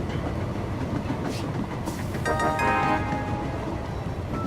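A train runs along its tracks in the video game Train Valley, a continuous rolling rumble with a brief rise and a thin tonal whine near the middle, heard without talk.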